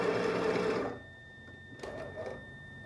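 An electric sewing machine stitches through pant fabric with a fast, even whirr for about a second, then stops, leaving faint handling noises as the cloth is shifted and pins are pulled.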